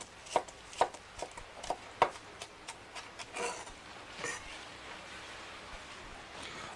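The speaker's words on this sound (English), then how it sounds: "we're going to mince 1/2 of our medium-sized onion, and we'll slice it down. And we'll cut in the other direction to mince it" A knife mincing half a medium onion gives a run of crisp, irregular chops on a board, close and fairly quiet, with the strokes thinning out toward the end.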